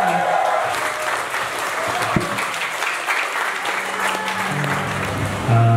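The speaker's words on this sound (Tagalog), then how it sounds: "Isang po isang magkarong palakpakan na may hiyawan para kay tatay." Applause with cheering from mourners at a funeral for a father, a sustained crowd clapping at close range with voices mixed in, ending in a low hum.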